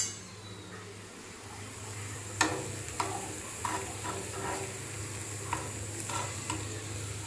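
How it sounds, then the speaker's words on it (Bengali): Dried fish frying in a pan gives a steady close sizzle, with scattered scrapes and taps of a spatula stirring it throughout. "শুটকিটা ভালো করে ভাইজা নেই।"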